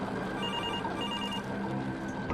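Electronic alarm bell ringing steadily inside the video game Absinth, a continuous trilling ring that sounds like it's coming from another room, with no talking over it.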